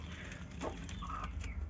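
A hen clucking inside a cage, a few short, close, raspy clucks over a low background rumble.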